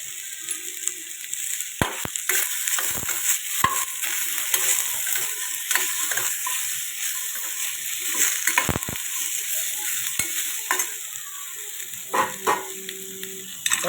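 Apple pieces and chutney ingredients sautéing in a pan, a steady soft sizzle with scattered stirring scrapes and clicks, close and alone with no voices.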